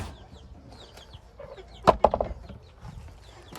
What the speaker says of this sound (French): Et eux, les poulets, ils attendent juste d'avoir toujours de la sémoline